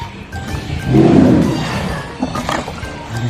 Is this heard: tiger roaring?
yes